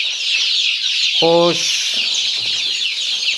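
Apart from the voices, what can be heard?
hens and roosters clucking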